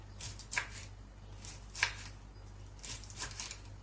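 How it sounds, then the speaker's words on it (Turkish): A few quiet knife strokes tap against a cutting board while thinly slicing green beans, spaced apart with short pauses, over a low steady background hum. "Şimdi fasulyelerimizi güzelce doğruyoruz ince ince."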